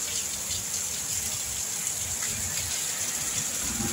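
Heavy rain pours steadily in Nijgadh, soaking a parked motorbike, a continuous close wash of water with hiss in the highs and no break across the whole stretch.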